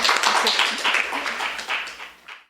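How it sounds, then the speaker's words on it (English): Applause from an audience at an author reading in a bookstore, a dense burst of hand claps that holds steady, then thins and fades to silence within a couple of seconds. "And another round of applause."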